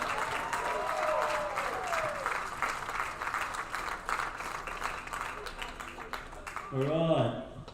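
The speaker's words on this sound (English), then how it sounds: "Premiers, Grady Weston, give them a round of applause" Crowd applause at a baseball grand final presentation ceremony, steady clapping sustained throughout under a male announcer's voice, with a brief louder burst near the end.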